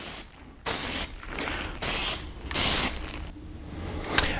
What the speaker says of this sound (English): So after we sprayed on the first coat